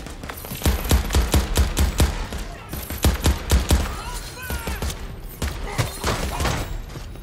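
Rapid bursts of gunfire in the video game Crackdown 3, loud and close, with repeated shots in quick rhythmic volleys and a few brief pauses between them.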